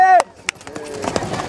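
At a Camargue horse event, a brief vocal cry is followed by a quick run of horse hooves clattering on the ground, close by and uneven in rhythm.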